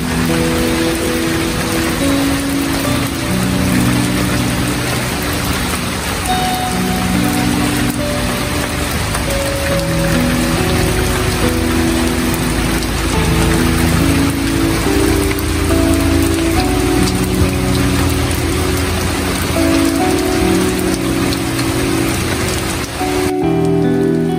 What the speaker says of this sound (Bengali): আমি কিছুক্ষণ এই বৃষ্টিতে ভিজে বৃষ্টিটা উপভোগ করেছিলাম